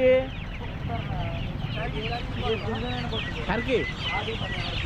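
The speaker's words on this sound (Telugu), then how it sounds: "ఇవన్నీ నాటుకోళ్ళు అండి" Country chickens cluck and chatter in a busy crowd at a livestock market, their short calls scattered over a steady murmur of voices.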